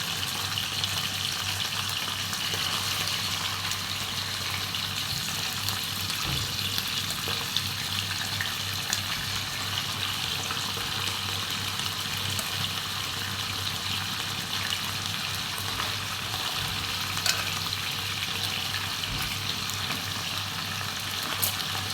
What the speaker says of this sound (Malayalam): ഇനി ഇതൊന്ന് ഫ്രൈ ആയി വരണം